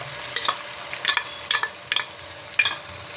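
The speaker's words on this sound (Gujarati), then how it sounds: "આ કાંદાની ગ્રેવીને પણ હું આ 1 મિનિટ માટે સાતળી લઈશ" Onion gravy with ginger-chili paste sautéing in a pan, a soft continuous sizzle punctuated by regular scraping strokes of a spoon stirring the mixture, close and without talk.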